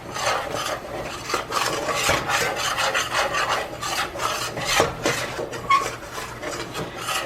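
Steady scraping and rubbing as a spoon stirs thick mac and cheese sauce in a pot over medium heat on the stove, continuous and close with no talking.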